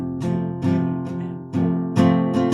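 Acoustic guitar strummed in a down-up pattern for a song, with chords ringing in sustained waves and fresh strums at a steady pulse, played close and alone with no talking.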